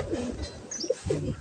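A racing pigeon cooing close by, two soft low coos about a second apart over faint background noise.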